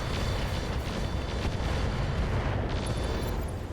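A Thumper turret blown apart by weapon fire in the RogueTech mech game, a sustained rumbling explosion with crackling bursts, loud and dense throughout.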